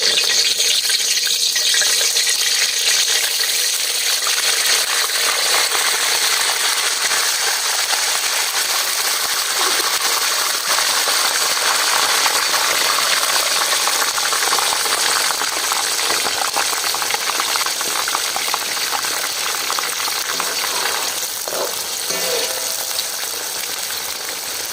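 Chicken pieces sizzle in hot ghee in a karahi for a Peshawari karahi, a loud, dense, steady crackle and hiss that fades slightly near the end, with no talking.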